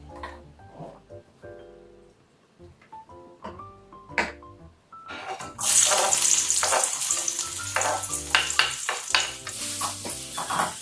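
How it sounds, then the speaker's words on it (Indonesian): Frozen vegetables hit a hot pan partway through, bursting into a loud, sustained stir-fry sizzle with scraping stirs, after a quieter opening of tonal, music-like notes that continue faintly underneath. "sekarang saya mau tumis dulu untuk bikin sayuran bekunya ya"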